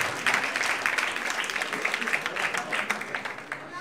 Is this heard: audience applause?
yes